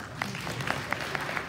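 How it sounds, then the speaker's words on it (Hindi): An audience at a national plant pathology symposium breaks into brief applause, with scattered individual claps standing out over a steady wash of clapping in a hall. "छत्तीसगढ़ के नाम पे एक ताली हो जाए।"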